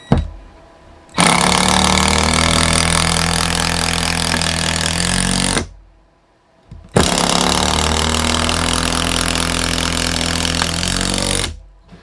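Ridgid 12-volt drill driving 2.5-inch decking screws into two stacked 2x4s, with two long, loud, steady whirring runs of about four and a half seconds each, split by a short silent pause.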